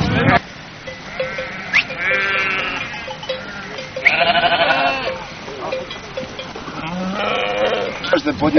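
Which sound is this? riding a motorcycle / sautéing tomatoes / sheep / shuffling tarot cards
sheep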